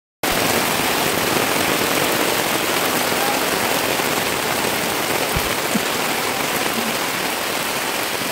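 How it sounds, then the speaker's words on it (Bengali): Very heavy rain pours down in a loud, continuous, close roar of dense drops on surfaces, unbroken by voices. "তাই আমি তোমাদেরকে বৃষ্টির অরিজিনাল আওয়াজটা শোনালাম"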